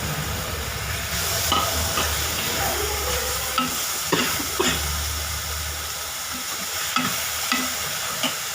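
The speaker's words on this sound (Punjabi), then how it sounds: "ਥੋੜਾ ਜਿਹਾ ਇਹਨੂੰ ਭੁੰਨਣ ਦਵਾਂਗੇ" Masala roasting in a pan with a steady, close sizzle and hiss, broken by occasional sharp clinks of stirring.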